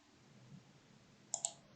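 Two quick, crisp computer mouse clicks close together near the end, made while modelling a 3D part in Autodesk Inventor, after a stretch of quiet room hiss.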